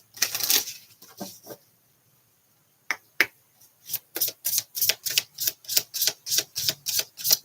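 Tarot cards are shuffled by hand, a few separate riffles and then a fast, steady run of crisp flicks. The sound is close and fairly quiet, with no talking.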